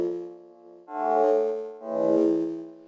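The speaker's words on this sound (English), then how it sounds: "you can hear that very kind of spectral, we're resynthesizing something, perhaps with resonators kind of quality" Grainy, spectral resynthesized chord sample from the Dawesome Myth synthesizer, two swelling sustained chords with a resonant, shimmering texture, moderately quiet and alone.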